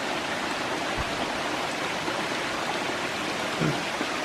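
A shallow creek in a Tennessee nature preserve near old brickwork and a spring flows steadily, a continuous close rushing wash with faint splashes and no voices.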